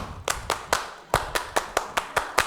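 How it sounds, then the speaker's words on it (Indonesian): Tepuk Pramuka, the rhythmic Scout group clap led among Pramuka members: sharp, loud unison claps in a patterned beat, a quick triple then a pause followed by evenly spaced claps, with no talking. "Tepuk pramuka."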